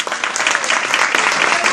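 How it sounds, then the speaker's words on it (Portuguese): Church congregation applauding during a pastors' congress service, a loud, dense, continuous burst of clapping filling the room. "Aplauda ao Senhor."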